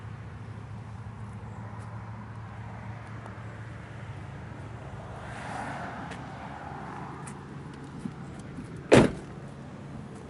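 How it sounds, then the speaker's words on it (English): The door of a 1992 GMC Sierra SLE 1500 pickup swings shut with one solid, close thunk near the end, set against a quiet outdoor hum. "Doors shut like brand new."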